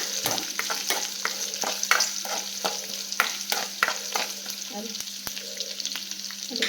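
Onions frying in a pan for Tamil brinjal kadayal, an even crackling sizzle punctuated by frequent sharp spatula scrapes and stirs, close up, with no speech over it.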